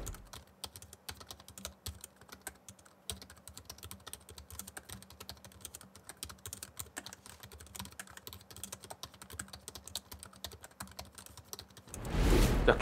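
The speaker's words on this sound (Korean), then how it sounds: "키보드 타건음 들어보시겠습니다" Fingers type on the pentagraph keyboard of a Razer Blade 16 laptop, a steady, close run of light, quick key clicks at low volume, ending in a brief burst of louder noise.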